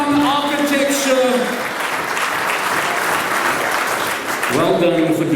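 Loud, sustained clapping from a crowd at a professional services awards ceremony, with voices speaking over it at the start and end.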